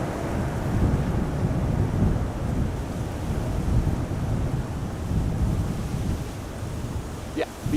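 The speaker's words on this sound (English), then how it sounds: "Is it as windy as over there as it is over here?" Wind gusts across the microphone at a sunny Aberdeen airport as a steady, loud roaring rumble that swells and eases.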